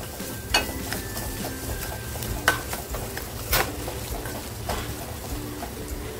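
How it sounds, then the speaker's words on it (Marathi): Spice masala for prawn curry fries on low heat with a steady crackling sizzle, broken by repeated clinks and scrapes of a spoon stirring in the pan. "आणि आता आपल्याला मसाले आहेत ना छान फ्राय करून घ्यायचे आहेत।"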